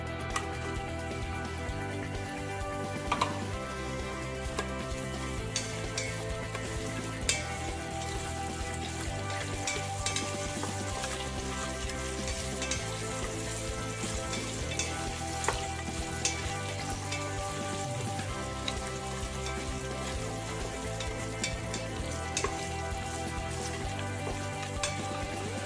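Sliced onions frying in a pan for coconut rice, a continuous even crackling sizzle with faint pops throughout, steady and moderately close, no speech.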